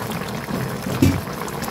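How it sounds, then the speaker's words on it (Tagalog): Tuna paksiw simmering in coconut milk inside a covered pot, a low, continuous bubbling with one brief louder burble partway through, close and moderately loud with no voices. "Kulo-kulo na siya mga kamigs."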